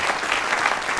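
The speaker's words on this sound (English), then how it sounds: "I'll accept a round of applause for that lovely talk" A studio audience at a cooking show breaks into dense, continuous applause, a full crowd clapping steadily and fairly loudly.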